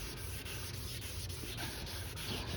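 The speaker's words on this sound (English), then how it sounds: "And then the subsequent sanding papers, they're there to get rid of this heavy scratches from the 600." Wet sanding of a plastic Pontiac G6 headlight with coarse 600-grit sandpaper, a steady close scratchy rubbing with soft rhythmic strokes and no voices.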